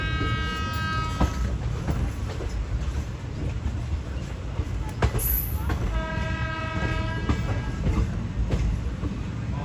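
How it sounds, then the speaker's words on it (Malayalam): A train pulls into Jamnagar railway station with a continuous rolling rumble and wheel clatter, broken by two long horn blasts, one near the start and another about two-thirds of the way through. "ഇവിടത്തേക്ക് ഓൾറെഡി ഒരു ട്രെയിൻ വരുന്നുണ്ട്."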